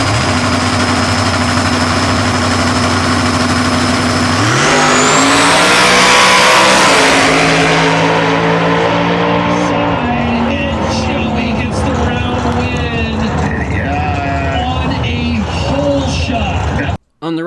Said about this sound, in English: a nitrous-fed BES 582 cubic inch big block 81 Malibu